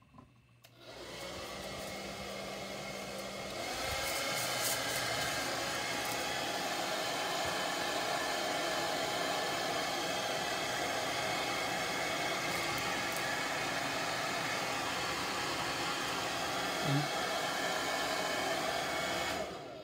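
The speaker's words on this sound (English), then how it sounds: "Now, we'll heat set this with the dryer." Hair dryer heat-setting freshly airbrushed fishing popper heads, switching on after a moment and then blowing as a loud, steady, broadband whoosh that holds unchanged for the rest of the stretch.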